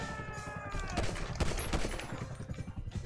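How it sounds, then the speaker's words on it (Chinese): A pistol fires repeatedly in GTA 5 amid dense game noise, a run of sharp cracks in an uneven rhythm over a busy background. "子弹没了，只能发射这手枪啊"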